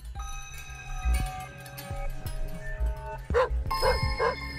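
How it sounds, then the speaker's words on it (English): A dog barks a couple of times in The Binding of Isaac: Repentance, short yips near the end over game music and effects. "did that just bark?"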